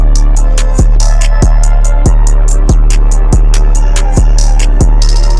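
Loud trap drum pattern: booming 808 kicks with a sliding low tone, steady rapid hi-hats, and a roll of quicker hats near the end.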